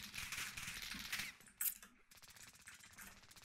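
Rapid bursts of gunfire in the video game Call of Duty: Warzone, crackling shots in quick succession with a sharp metallic ping partway through, fairly faint and distant.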